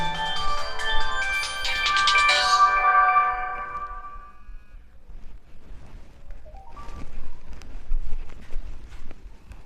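A mobile phone ringtone plays loudly nearby as a bright melodic chime lasting a few seconds, then stops, leaving quiet room noise with faint sounds afterward.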